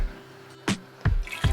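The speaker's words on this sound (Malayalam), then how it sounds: "അതിലേക്ക് കുറച്ച് വെള്ളം കൂടി ചേർത്ത് കൊടുക്കാം" Water is added to soaked chickpeas in a cooking pot for a roasted coconut chickpea curry, heard as three short, separate splashes and drips close by against a quiet background.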